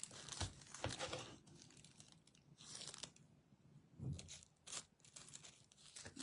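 Decorative paper being handled close by, with crisp crinkling, tearing and crunching rustles coming in uneven bursts and pauses, no voices.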